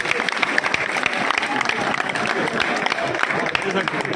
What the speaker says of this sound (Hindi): आपकी आमद से पहले उनके लिए तालियां जी प्लीज